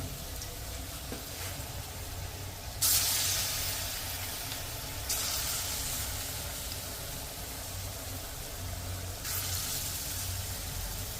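Last batch of food frying in hot oil, a soft continuous sizzle and bubbling heard close up, with brief louder hissing bursts when pieces are moved or added.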